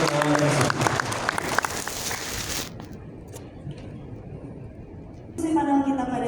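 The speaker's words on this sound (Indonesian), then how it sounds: "kita berikan aplaus" Audience applause at a panel discussion on the Cirata Reservoir, held in an office hall: dense clapping for nearly three seconds, then a quieter stretch of scattered claps, then a burst of clapping with a voice over it near the end.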